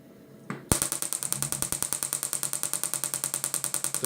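A Gymna Shockmaster 300 shockwave therapy machine set to 1 bar at 10 Hz starts up after a faint click, then fires a rapid, even train of sharp, loud snapping pulses, about ten per second, close by.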